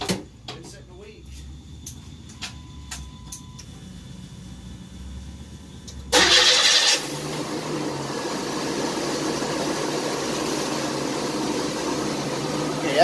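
A 1993 Chevrolet S10 with the 4.3 engine, fresh after a starter replacement, is cranked and fires up, then settles into a steady, close running drone after a few clicks and quiet moments.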